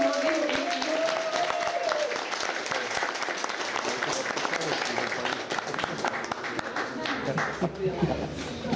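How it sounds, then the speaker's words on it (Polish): Audience applause at a dance section club performance, a long continuous wash of many hands clapping that stays steady throughout, with a voice speaking briefly near the start and quieter talk toward the end. "No to jeszcze raz poproszę o gromkie brawa."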